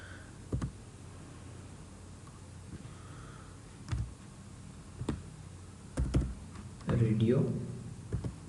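Scattered keystrokes on a computer keyboard while HTML code is entered, sparse single clicks and a short cluster near the end, close and fairly quiet with room hiss underneath.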